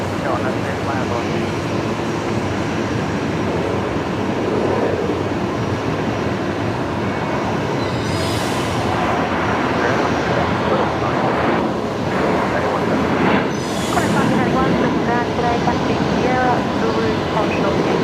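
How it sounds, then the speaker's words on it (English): An airport rail train arrives below at Brisbane Airport, a steady low mechanical roar with brief hissing bursts, heard from a distance under steady background noise. "Sounds like one of the air trains just arrived below us here."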